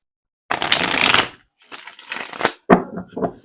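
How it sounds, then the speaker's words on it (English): Tarot cards are shuffled close up in quick riffling bursts, a long crisp flutter followed by shorter broken riffles and a few sharp snaps, with gaps of near silence between them. "Shuffle it one more time."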